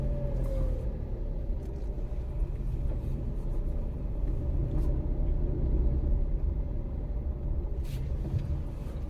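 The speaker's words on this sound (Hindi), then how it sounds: "ये गाड़ी रिवर्स में डाली और रिवर्स में डालने के बाद जनाब आपने" Suzuki Alto 660cc manual car in reverse gear, its small engine giving a steady low rumble close by with faint clicks and shifts over the top, no talk heard.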